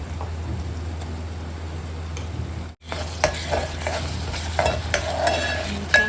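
Onions sautéing in oil in a pan until golden brown, a loud continuous sizzle that cuts out briefly then resumes with stirring scrapes and utensil taps.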